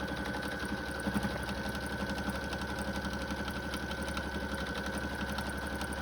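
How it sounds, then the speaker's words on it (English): A sewing machine runs steadily, stitching a seam on a fabric book sleeve, with a continuous close mechanical whir and rapid rhythmic needle clatter, alone with no talk. "Back stitching at the beginning and the end."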